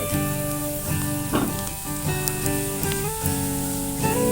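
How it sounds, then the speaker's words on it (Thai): A pot of water with boxed coconut milk heats over a strong open fire, giving a steady close hiss and sizzle with soft bubbling, a few louder pops and clatters standing out, and no talking. "น้ำเริ่มเดือดแล้วนะครับ"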